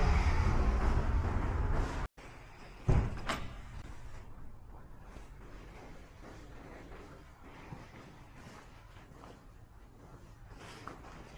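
A heavy church door swings open with a loud thud and clunk early on, followed by quieter interior room tone with faint shuffling.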